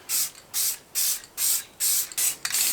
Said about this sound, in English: Make sure it's actually gonna spray.